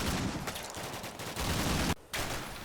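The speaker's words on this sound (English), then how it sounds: "The two BTRs on this flank have begun providing suppressive fire on the sniper team." Dense, continuous automatic gunfire from two BTR armored vehicles in Combat Mission: Black Sea, sustained bursts laying suppressive fire on a sniper team, with a brief gap near the end before the firing resumes.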